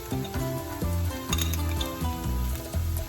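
Sofrito and adobo sizzle in a hot pan as they are stirred, a close frying crackle broken by repeated scraping and clinking strokes of a utensil against the pan.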